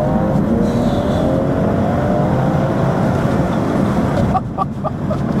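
A tuned BMW M240i, making 500 bhp on a custom tune, accelerates hard in second gear. It gives a loud, steady roar of engine and intake noise from inside the car, then the tone drops and a few short crackles follow at the end.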